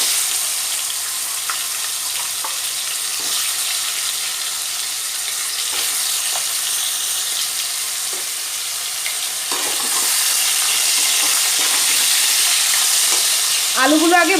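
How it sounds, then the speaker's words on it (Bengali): Potatoes fry in hot oil tempered with cumin and cinnamon, giving a continuous close sizzle broken by repeated scraping stirs of a spatula in the pan. "এবার আমি আলুগুলো ভেজে নেব।"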